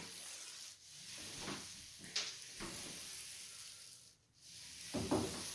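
A 4-inch paint roller runs over a baseboard with a soft, wet, sticky rasp in long strokes, close up, each broken by short gaps as the roller is lifted and repositioned.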